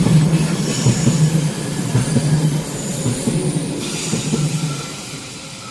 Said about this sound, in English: So train आ रही है यहाँ से.